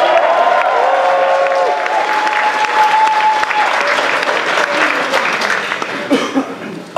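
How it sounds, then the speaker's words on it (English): A large crowd at the RuneFest 2013 RuneScape fan event claps and cheers loudly and continuously for several seconds, then fades slightly. "let's have a big cheer for Noosh."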